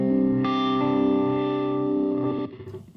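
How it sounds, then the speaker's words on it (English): A sustained electric guitar chord through a MOD Dwarf with a throbbing, swirling uni-vibe style modulation effect and some grit, ringing loud before cutting off abruptly. "it's like a univibey kind of thing"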